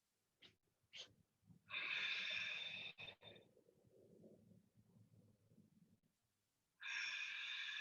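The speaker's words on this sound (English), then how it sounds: "Take 2 more rounds of breath." Deep, slow breaths during a gentle yoga flow: two long airy exhales, separated by quieter low rustling, alone and close without talk.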